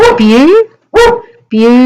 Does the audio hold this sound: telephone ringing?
no